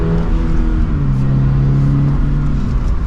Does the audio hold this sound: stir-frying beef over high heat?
no